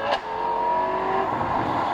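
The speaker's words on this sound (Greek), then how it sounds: "Ακούστε τον ήχο της αλλαγής." A Ferrari 12Cilindri's engine is heard alone, up close and loud, revving hard through a gear change with a brief break in the climb as the shift lands.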